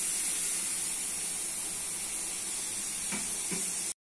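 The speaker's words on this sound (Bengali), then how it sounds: "দিচ্ছি জল" Water poured into a pan of frying spice masala of turmeric, chilli, cumin and coriander bursts into a loud, dense hissing sizzle that holds steady, with a couple of faint clinks near the end before it cuts off.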